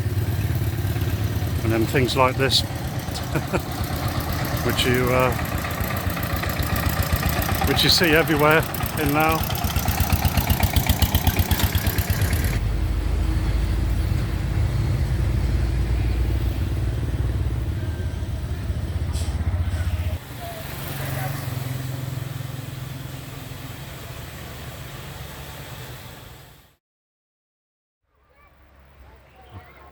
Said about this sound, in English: Everybody on motorbikes and lots of trucks and cars buzzing around